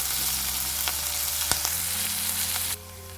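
Onions sautéing in a pan while cooking ivy gourd rice: a steady, close sizzle with a few sharp crackles, no voices, softening suddenly just before the end.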